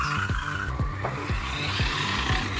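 A small 3D-printed toy car drives and skids with a continuous high motor whine, broken by repeated quick sliding squeals in a steady loud run and no speech.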